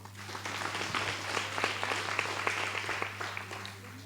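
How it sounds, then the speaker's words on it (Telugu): Audience clapping at a church gathering, a dense sustained patter of many hands lasting about four seconds at even strength, moderately loud, with a steady low hum underneath. "వింటాము అన్న వాళ్ళు చప్పట్లు కొట్టండి"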